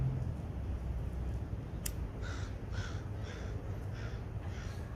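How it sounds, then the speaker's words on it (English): A crow caws outdoors in a series of about five evenly spaced harsh calls, moderately distant, over a low steady background rumble. "Mama Crow."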